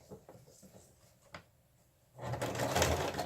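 A sewing machine stitches a piece of jute onto a scrap-fabric tassel in one brief, steady run at moderate loudness. Quiet handling sounds and a soft click come first, with no talk.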